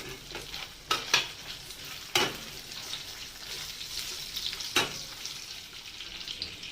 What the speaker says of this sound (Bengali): এবারে দিয়ে দেবো কাঁচা আম